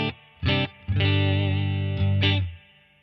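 Electric guitar played through a Headrush Core amp model with its built-in reverb: a few short picked chords, then a long sustained ringing chord with a reverb tail, followed by another brief stab that decays, with no talk.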